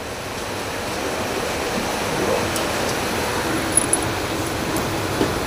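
Heavy rain pours outside in a dense, unbroken hiss that holds steady throughout, with a few faint clinks from a kitchen nearby.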